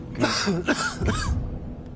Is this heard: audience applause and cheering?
no